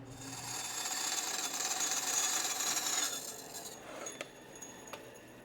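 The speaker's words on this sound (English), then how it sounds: "Now you go cut that on the saw." A saw cuts through metal in the shop, a loud rasping, grinding rush for about three seconds, then falls away to a quieter hum with a few sharp clicks and taps close by.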